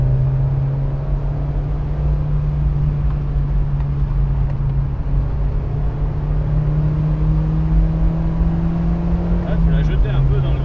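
A Peugeot 206 CC S16 engine pulls hard through the gears, a loud steady drone heard from inside the cabin with a slowly rising pitch that shifts near the end, while people talk over it.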